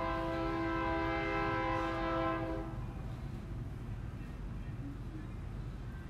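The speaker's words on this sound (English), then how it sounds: "Here's my friend the train." A train horn blares a steady multi-tone chord for about two seconds, then cuts out, leaving the loud low rumble of the passing train rolling on nearby.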